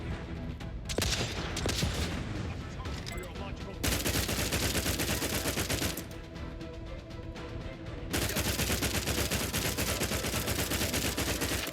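Rapid bursts of gunfire from The Outer Worlds 2, continuous and dense across the span with a brief lull midway, mixed with game sound and music.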